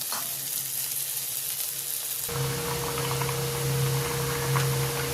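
Curry for raw banana and egg kofta bubbles and sizzles in a pan, a soft hiss that jumps to a louder, steady boil with a low bubbling drone partway through, with no voices.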